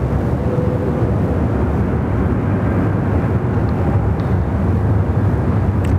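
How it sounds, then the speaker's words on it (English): An Emirates jet taking off and a Qantas 787 landing at Sydney Airport, heard as a loud continuous low jet rumble and roar that holds steady throughout, with no speech. "Try and catch the Emirates rotation and the Qantas 787 touchdown here."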